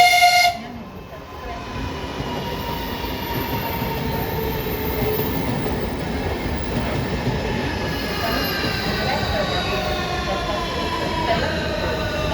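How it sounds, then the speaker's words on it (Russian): The Lastochka high-speed train, running from Krasnodar-1 to Roza Khutor, rolls alongside a station platform with a loud, continuous rumble of wheels and faint metallic squeals. "скоростной поезд номер 815, «Ласточка», с сообщением Краснодар-1, Роза Хутор, прибыл на второй путь"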